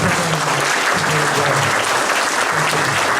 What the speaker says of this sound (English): I think we owe them a round of applause for being here.